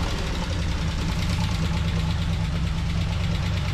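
A 427 Corvette V8 idles steadily up close, its low rumble carrying a faint rapid valve tick throughout, with no talking.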